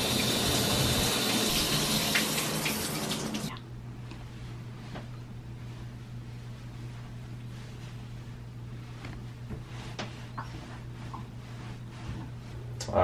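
A bathroom shower runs as a loud, steady spray of water for about three and a half seconds, then shuts off and leaves a quiet room with faint shuffling.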